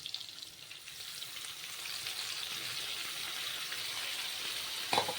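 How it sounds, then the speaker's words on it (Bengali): Ground spice paste fries in a pan with pumpkin and potato, a steady soft sizzle building slightly, ending with a brief louder clatter near the end. "তো ভাজা হচ্ছে"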